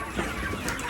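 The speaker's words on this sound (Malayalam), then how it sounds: "ഒരുപാട് കോഴികളുണ്ട്" Domestic country chickens, mostly roosters, on a small farm flock give a short, close burst of clucking that fills the brief moment without any talk.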